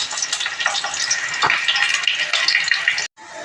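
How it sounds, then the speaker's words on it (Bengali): Onions frying in a pan alongside cumin, a steady loud sizzle with crackles that runs about three seconds, then cuts off abruptly before a softer sizzle resumes. "এখন আমি পেঁয়াজগুলোকে একটু লাল লাল করে ভেজে নেব।"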